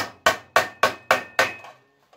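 A hammer knocks together a Pittsburgh seam joint on tin sheet metal for a three-piece duct elbow: six sharp, ringing blows at an even, fairly quick rhythm, close and clear, each decaying briefly, with a faint tap at the end.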